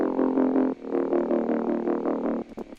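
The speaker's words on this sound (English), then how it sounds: "all I do is I add another gritty bass that sounds like this" A gritty bass synth from a Serum patch with automated movement plays a series of sustained, buzzing notes with rhythmic pulsing swells, loud and alone, then cuts off near the end.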